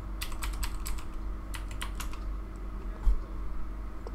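Quick clusters of keystrokes on a computer keyboard as a password is entered on an Ubuntu machine, close and crisp, with a brief pause midway and a soft thump near the end.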